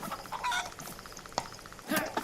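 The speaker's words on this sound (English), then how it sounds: "Oh, chicken!" A chicken clucks in the survival video game DayZ, giving several short, uneven clucks and squawks at close range, with a louder burst at the end.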